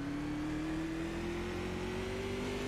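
Several Silver Crown race cars rev and accelerate together at the start of an iRacing race at Bristol Motor Speedway, a loud, steady engine drone that rises in pitch as they gather speed.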